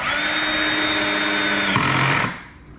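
A cordless drill with its clutch set low drives screws into the bottom plate of a Blackstar Artisan 30 combo amp, a steady whirring motor for about two seconds that shifts pitch, then stops and winds down.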